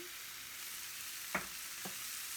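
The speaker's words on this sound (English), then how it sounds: "I use avocado oil. I chop in like I put in the onions first, and then I add the rest of the veggies." Onions and mixed vegetables frying in avocado oil, a steady hissing sizzle with two soft knocks midway, no voices.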